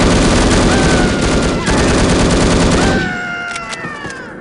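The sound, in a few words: explosion detonated in video game No One Lives Forever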